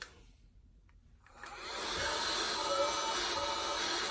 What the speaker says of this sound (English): use your hand vac or make sure that you clean it up before you put it on